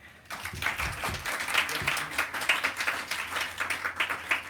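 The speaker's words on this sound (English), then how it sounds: "I think that deserves in of itself a bit of a round of applause for our students" An audience at a student panel for a best paper competition claps for the student finalists, a moderate round of applause that builds after a brief quiet start and continues steadily.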